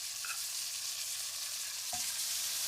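Lamb shanks brown in a hot pan, giving a quiet, steady frying hiss with a faint clink partway through, fairly soft and alone.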